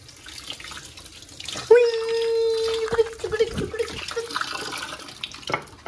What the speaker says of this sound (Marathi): अशी कोथिंबीर घ्यायची धुवून